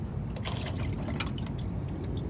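Engine oil draining from a 2006-2015 Mercedes-Benz GL450, heard as a continuous close-up gurgling, trickling pour into a pan, with no talking.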